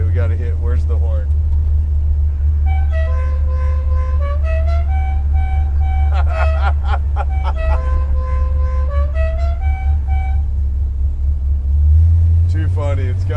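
The General Lee car from Dukes of Hazzard sounds its horn in a musical tune of rising and falling notes over a steady idling engine rumble, near and loud.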